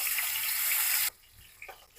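Raw banana pieces hit hot soybean oil with a loud, bright sizzle for about a second, then the frying drops to a quiet crackle with a small flare near the end.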